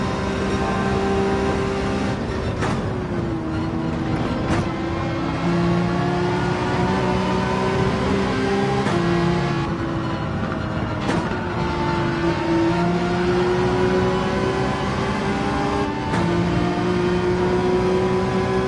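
Race car engine in Gran Turismo 7 at Willow Springs, droning loud and steady as it revs up through the gears, with several brief shift breaks along the way, the last into fifth gear.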